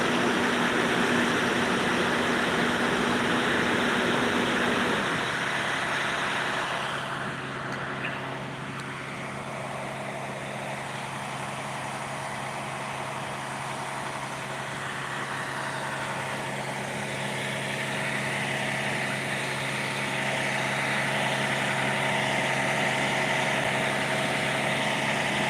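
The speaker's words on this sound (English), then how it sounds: "Over here with this loud ass truck." A loud truck engine idles steadily for the whole stretch, a constant heavy rumble with a droning hum that shifts slightly partway through, close and dominant with no talk over it.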